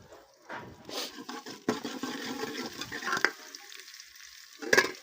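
Tadka tempering for saag sizzles in hot oil, with sharp hissing bursts that swell and fade as it is stirred, loud spits near the start and end.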